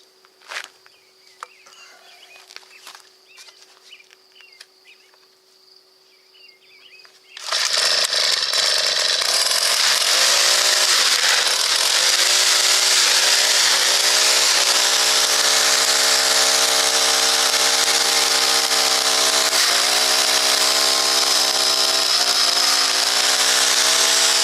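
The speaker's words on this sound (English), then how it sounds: "Let's give this weed whacker a shot and see if it works or not." A free, just-repaired weed whacker's small two-stroke engine starts after quiet outdoor background with faint insect chirps, then runs loud and steady at high revs, its pitch wavering slightly as the throttle shifts.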